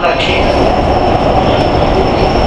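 A Kolkata Metro Green Line train pulls into Mahakaran station, with a loud, steady rumble and roar throughout and a high whine overhead, heard from inside the carriage.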